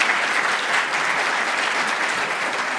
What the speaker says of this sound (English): I want to please join me in giving a round of applause to these panelists.